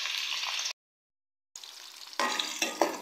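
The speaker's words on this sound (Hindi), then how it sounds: "प्याज को हम लोग गोल्डन कलर आने तक फ्राई करेंगे।" Onions frying in half a cup of oil in a kadai, hissing and sizzling loudly up close, cut by a short silent gap before the sizzle returns with stirring.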